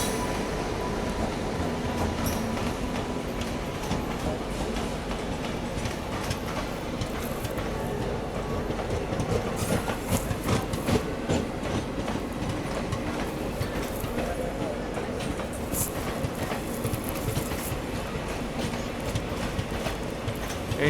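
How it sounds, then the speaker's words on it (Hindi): Siliguri Katihar Intercity Express, a fully packed passenger train of general coaches hauled by an electric WAP-7 locomotive, rumbles past with continuous rhythmic clattering of wheels over rail joints, loud and close throughout. "आगे से लाइन क्रॉस करके आ रही है ये सिलीगुड़ी कटिहार इंटरसिटी एक्सप्रेस"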